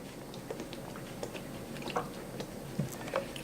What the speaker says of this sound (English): my cat's eating a few feet away too